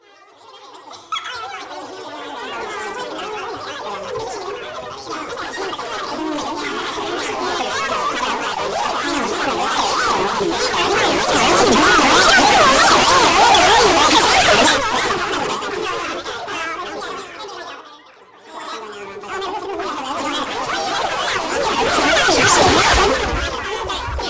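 Adaptive music from the video game Mute plays as a soloed track with flanger and reverb, a swirling, dense wash that swells louder in the middle, drops out briefly, then builds back up.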